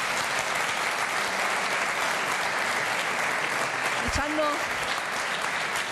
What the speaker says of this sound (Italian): Direi subito un applauso a questi bambini.